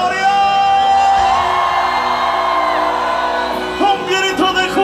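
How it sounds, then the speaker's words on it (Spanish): A church concert crowd in Quito raises a sustained, loud collective shout of victory, voices whooping and yelling together before it breaks into scattered cries. "Pueda dar un grito de victoria,"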